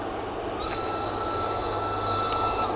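A train rumbles past nearby beside a stream with steady low roar and high metallic squealing tones from the wheels, continuous throughout.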